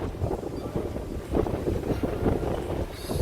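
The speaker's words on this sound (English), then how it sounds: "It's windy as hell out here" Strong wind buffets the microphone outdoors, a rough, low rumbling roar with uneven gusts that rise and fall without pause.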